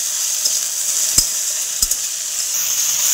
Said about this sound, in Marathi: परत हे अशी हलवून घ्यायची